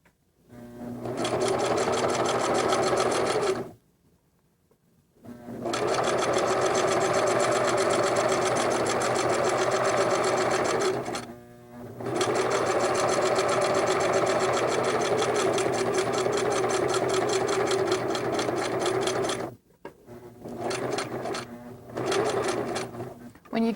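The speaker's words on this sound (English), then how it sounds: "What you're doing when you're stitching is catching the binding in the back as well as stitching in the ditch on the front." A sewing machine stitches in the ditch along a quilt binding in long, loud, steady runs, stopping briefly twice and then running in short bursts near the end.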